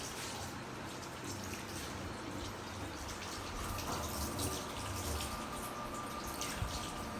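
Water runs steadily from a tap as hands are rinsed beneath it, a continuous close hiss and splash with small drips and splatters throughout.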